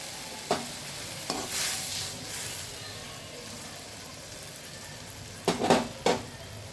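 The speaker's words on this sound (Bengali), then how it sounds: "এবার আমি দিয়ে দিচ্ছি জল" Water splashes into a pan of frying vegetables, setting off a fresh burst of sizzling over a steady background hiss, with a few sharp scrapes and clinks of stirring spread across the moment. No one speaks.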